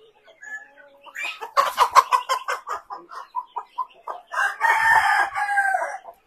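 A rooster crows loudly and close by in a farm's chicken pens housing Balão GSB and Caipirão Gigante breeds, its long cock-a-doodle-doo ringing out over soft clucking from nearby hens.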